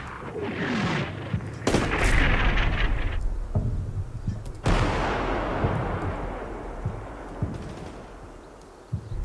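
Gunfire and artillery in the war game Combat Mission: Black Sea, with sharp shots and heavy booming blasts breaking out in loud bursts, then a long rolling rumble of fire that carries on under the rest of the battle.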